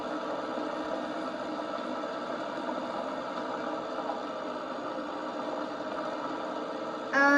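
A tractor engine labours uphill in a video game, a steady mid-pitched droning hum with a whirring texture that holds level throughout, alone without talk until a brief sharper sound at the very end.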